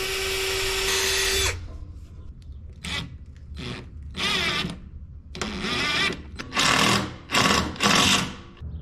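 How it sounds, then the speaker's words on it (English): A power drill pre-drills holes in wooden framing for a box truck camper wall: one long steady whine at the start, then a series of short, loud bursts of drilling close by. "I'm gonna pre-drill 2 holes in each of those so that when we screw them in"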